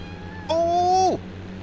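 A single clear cat meow in the farming simulator Cattle and Crops, rising then bending downward in pitch, about half a second long over a steady low engine hum.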